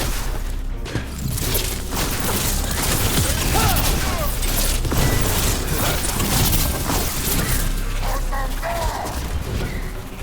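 Loud booming cannon blasts and heavy gunfire roll continuously through a dense video game battle din in Dragon Age: The Veilguard, with voices partly buried under the explosions.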